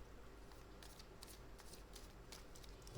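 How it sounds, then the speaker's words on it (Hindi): Tarot cards are drawn and shuffled from a deck, a faint, close rustling and flicking of card stock that runs continuously in short papery bursts. "और कार्ड्स मैं इंट्यूटिवली अभी निकालूंगी"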